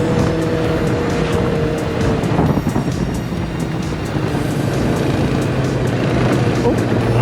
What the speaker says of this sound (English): To be honest, that Gixxer does sound amazing.